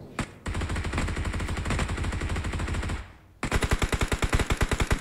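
Automatic rifle fire in the mobile shooter game PUBG Mobile, a loud sustained burst of rapid shots, a brief pause, then another fast volley of sharp cracks, with no talking.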